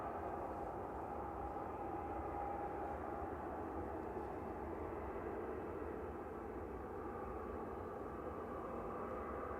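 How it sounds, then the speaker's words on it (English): A TUI Boeing 737-800 arriving from Luxor passes over the runway threshold on landing at Manchester Airport, a steady, distant jet roar holding even throughout. "Coming in from Luxor in Egypt, this is TUI Flight 253, 737-800. Just coming over the threshold."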